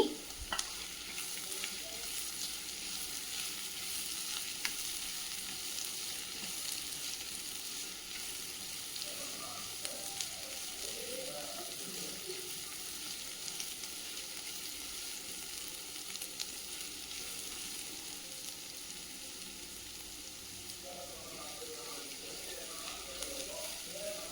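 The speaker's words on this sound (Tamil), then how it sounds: "வெங்காயம், தக்காளி எல்லாமே நம்ம போட்டது." Chopped onion and tomato sauté in a pan while being stirred for a Tamil raw banana fry, giving a steady, moderate sizzle with scraping stir sounds throughout and no talking.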